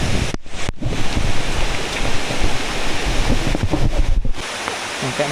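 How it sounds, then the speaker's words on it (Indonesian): Sudden heavy rain pouring down outdoors, a dense, loud, continuous wash of noise with a few brief breaks, close and steady throughout. "Mendadak hujan guys."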